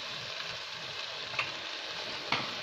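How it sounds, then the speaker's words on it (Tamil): Chicken sizzles steadily in hot oil, a close, even frying hiss with two brief clinks of a utensil against the pan. "இப்போ சிக்கன் ஒரு 5 நிமிஷம் நல்லா வதங்கிடுச்சு எண்ணெயில்"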